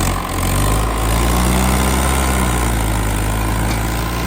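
A loud Standard tractor engine idles steadily nearby, a constant low droning rumble with a faint mechanical whine throughout.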